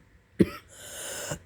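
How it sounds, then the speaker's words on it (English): A single sharp cough from someone who is sick, close and dry, trailing into a short raspy breath. "I'm coughing because I'm sick."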